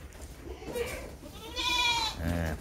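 Goats bleat during natural mating in a breeding pen, two or three close, wavering bleats rising near the end, with a background of farmyard noise.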